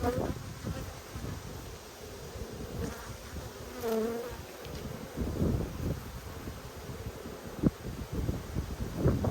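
Honey bees hum in a dense, steady drone around an open hive during an inspection in Australia, with rustling and handling noise of frames and occasional louder passes near the microphone.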